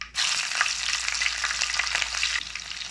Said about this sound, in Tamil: கடுகு, தான் சோம்பு, அதாவது பெருஞ்சீரகம் நல்லா ஃப்ரை ஆகும்.